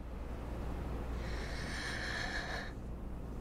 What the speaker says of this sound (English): immediately you can already hear like breathing in your ear